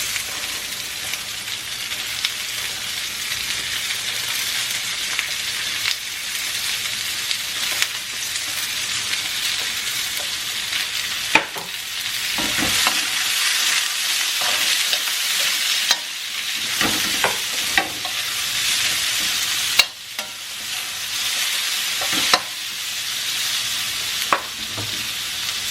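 Red paprika and carrots fry in a pan with a loud, continuous sizzle, broken by repeated stirring scrapes and clacks of a utensil against the pan, close up and with no talking.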